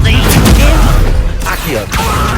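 An Expelliarmus spell cast during a fight in the wizarding game Hogwarts Legacy, heard as a loud, dense rush of crackling magical bursts and booming thumps that come in close surges with brief dips between them.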